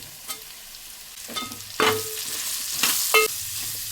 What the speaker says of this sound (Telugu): ఇప్పుడు మనం కోసి పెట్టుకున్న ఈ ఉల్లిపాయలు పచ్చిమిరకాయలు వేసుకుందాం ఇది కూడా కొద్దిగా మగ్గాలి కదండి